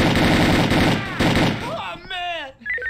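Gunfire in the tactical police game SWAT 3, a quick series of sharp shots packed into the first second or two, followed by shouted voices talking over the end.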